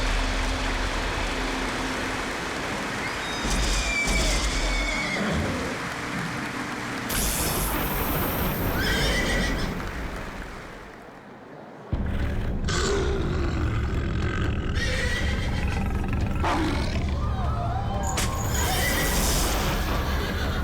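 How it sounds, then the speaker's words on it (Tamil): A horse neighs and whinnies amid a loud, busy film soundtrack in a Tamil-dubbed fantasy movie about a unicorn, with dense background effects throughout and a brief drop in level midway. "இந்த உலகத்துல அழிவை உண்டாக்குற மிருகங்களை அழிக்கிறதுக்காக வந்ததுதான் இந்த அதிசய குதிரை"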